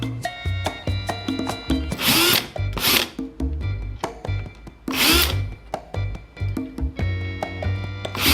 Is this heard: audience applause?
no